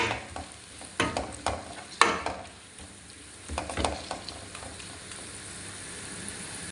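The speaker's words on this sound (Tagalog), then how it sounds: "una ko nga pong igigisa yung, isasama sa gisa yung hotdog po" Hotdog sizzles in a pan while a utensil stirs and scrapes repeatedly as it is sautéed for tuna carbonara, producing a series of close clattering strokes over the steady frying hiss.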